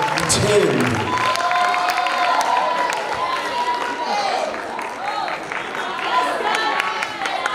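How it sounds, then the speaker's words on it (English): Crowd at the Mr and Miss Prof Bizana 2021 pageant at Wild Coast Sun applauds an introduced speaker, with sustained clapping mixed with cheers and shouts and voices talking over it. "Let us give her a round of applause"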